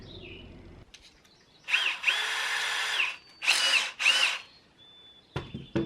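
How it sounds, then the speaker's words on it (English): A power drill countersinks holes for 10-inch screws in wooden roof strapping on an off-grid home build in Maine, whining in several sustained bursts of one to two seconds with short pauses, close and loud, with no talk. "I decided to go ahead and countersink all of these 10-inch screws"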